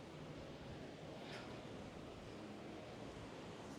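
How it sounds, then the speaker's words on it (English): Steady wind buffeting a microphone on the open upper deck of the cruise ship Utopia of the Seas, a continuous breathy rush with a faint wash like sea surf beneath, quiet and unbroken. "You might be hearing a little bit of the wind now"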